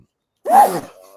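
A single sharp sneeze, close and loud, bursts out on its own amid a casual recap of a wrestling show, trailing off into a brief faint breath.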